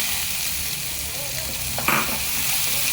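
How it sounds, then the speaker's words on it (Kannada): Steady frying sizzle of curry leaves in hot oil, close and constant, with a brief stirring clink near the end. "ಈಗ ನಾನು ಸ್ವಲ್ಪ ಕರಿಬೇವು ಹಾಕ್ಕೊಳ್ತಾ ಇದ್ದೀನಿ"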